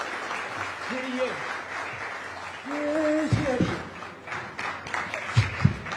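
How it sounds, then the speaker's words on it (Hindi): An audience claps together during a yoga session on a stage, a moderate, sustained spatter of applause with voices calling out over it. "वही तालियां रुकनी नहीं चाहिए मेरे ख्याल से।"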